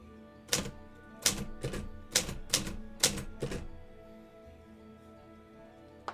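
Six or seven crisp, loud mechanical keystrokes with bright clacks come in an uneven rhythm over the first few seconds and are followed by near quiet and a final faint click.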